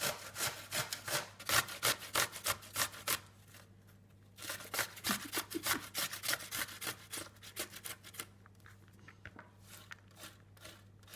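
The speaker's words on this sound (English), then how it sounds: "I'm going to grate the cucumber next." Cucumber being grated on a hand grater for a yogurt dip, a run of fast rhythmic rasping strokes close by, a short pause, then more strokes, with a faint steady hum underneath.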